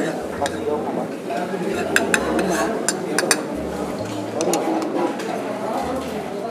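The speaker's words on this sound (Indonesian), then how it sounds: "Diaduk." Fried chicken being stirred with sambal and a squeeze of lime juice, giving repeated light clinks and scrapes of utensil against a dish amid steady background chatter and a low hum.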